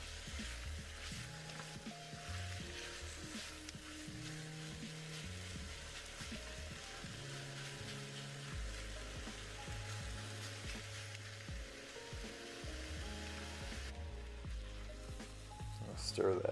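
Pork belly pieces for adobo fry steadily in a crowded pan, giving an even, continuous sizzle beneath a speaking voice, with a brief clatter of a utensil near the end.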